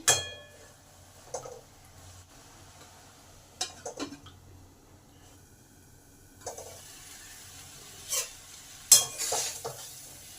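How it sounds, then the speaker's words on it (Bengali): Moringa drumsticks are turned over in a covered pan of simmering water, with scattered scraping and clattering bursts over a low bubbling hiss. The pan sounds are close and the gaps between them are quiet. "দু মিনিট পরে উপরের ডাটাগুলোকে নিচে করে দিই"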